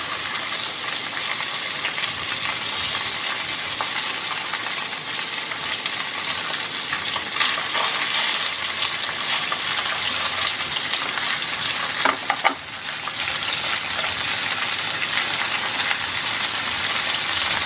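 Marinated tangra fish frying in a hot pan, a steady loud sizzle that runs unbroken, with a few brief stirring clatters partway through and no voices.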